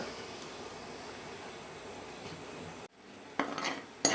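Onion-tomato paste stirred in hot oil in a pan while cooking gongura chicken, a steady low sizzle of frying with a short hush near the end, then a few scraping clinks of a spoon against the pan, close by.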